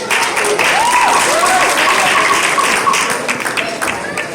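A crowd at a Kwanzaa celebration gives sustained, dense applause for the young helpers, steady and loud throughout, with a voice briefly rising over the clapping.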